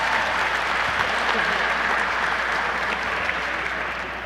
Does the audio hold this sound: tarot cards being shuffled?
no